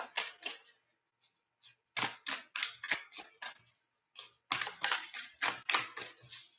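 A deck of playing cards is shuffled up close: several short bursts of rapid, crisp riffling clicks separated by brief pauses, with no talking.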